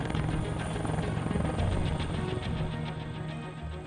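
Steady, loud helicopter rotor drone with a constant low thrum and broadband engine whine, holding at an even level throughout.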